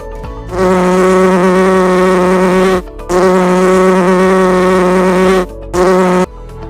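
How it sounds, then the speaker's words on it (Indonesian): A fly buzzes loudly and close around food. Its steady, high-pitched droning whine runs in two long bursts separated by brief pauses, then a short final burst, with no talk. "ada lalat di makananmu"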